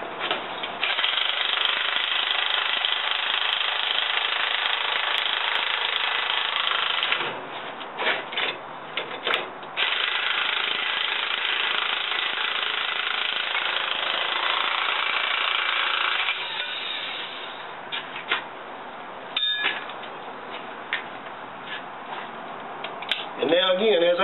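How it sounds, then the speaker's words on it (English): An electric impact wrench with a socket tightens a large bolt on an RV steering control: loud, rapid hammering bursts lasting several seconds each, separated by brief pauses and lighter clicks. "I'm using an electric impact with a 1 1/8 inch end wrench to hold the bolt as we tighten"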